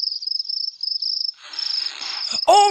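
Video game insects give a loud, steady high-pitched cricket-like trill, pulsing rapidly and briefly joined by a hissy rustle before a sharp sound cuts in at the end.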